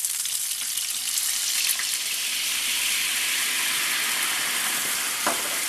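Chicken legs fry in a pan with a steady, close broadband sizzle; the hiss brightens as white wine goes in, and a short sharp crackle breaks through near the end, with no voices.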